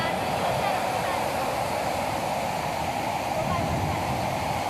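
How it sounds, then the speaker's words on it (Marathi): Floodwater pours over the spillway of Nagardevla dam near Pachora, a loud, unbroken roar of rushing water that fills the whole stretch. "धरण बघू शकता सांड बघा कशी वाते"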